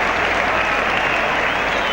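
A stadium crowd of Great Britain rugby league fans cheers and applauds a try by Roger Millward at Headingley, a dense, steady roar of clapping and shouting that fills the whole stretch at high volume.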